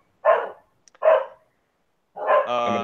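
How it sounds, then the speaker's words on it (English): A dog barks sharply twice close by, then gives a third longer bark that stretches into a whining, yelping tone, with silence between the calls. "We got dogs"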